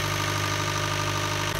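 Sailing boat's inboard engine running to charge the batteries, a steady, loud, close idling drone with a rhythmic knocking throb and no talk.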